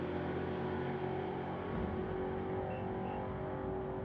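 Drag racing cars, a Plymouth and a Duster, run side by side at a drag strip under throttle stops, giving a continuous loud engine roar that holds steady throughout.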